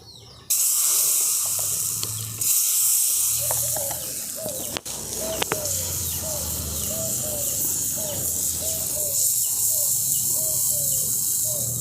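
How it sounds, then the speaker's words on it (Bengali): Chana dal batter sizzles steadily on a hot tawa, a continuous bright hiss starting abruptly and holding loud and close, with a faint repeated chirping or squeaking running through the middle. "এই ব্যাটারটা আমি এই তাওয়ার মধ্যে দিয়ে দিচ্ছি"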